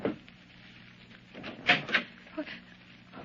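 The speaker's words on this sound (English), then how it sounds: "I go down and knock on her stateroom door" Two quick knocks sound close by on a ship's stateroom door, over a faint hiss of background noise.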